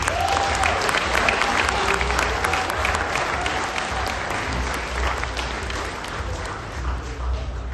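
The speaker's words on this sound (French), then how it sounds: "Est-ce qu'on peut les applaudir, les grenadiers?" Sustained applause from a large gala audience in Paris, honouring a group of grenadiers; dense, even clapping fills the room at steady loudness without letting up.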